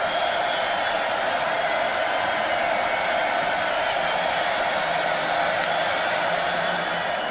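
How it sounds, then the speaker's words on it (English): A college football stadium crowd at the Missouri Tigers at Florida Gators game sends up a loud, steady roar that fills the whole stretch without letup. "You can hear this crowd noise already"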